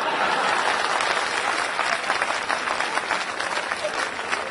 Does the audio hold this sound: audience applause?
yes